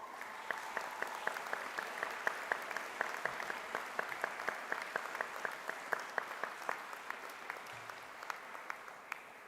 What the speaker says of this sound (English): Give them a big clap, please